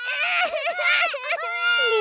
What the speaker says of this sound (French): Les vrais bébés font beaucoup de bruit.